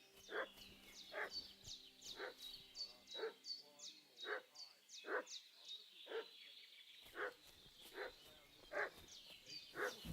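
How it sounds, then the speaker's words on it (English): A dog in Kingdom Come Deliverance II barks repeatedly in a steady rhythm, sharp mid-distance barks over a faint background, with a short pause midway before the barking resumes. "What's that dog making such a fuss about?"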